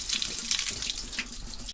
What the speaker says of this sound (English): you can just fill up water bottles is what he's doing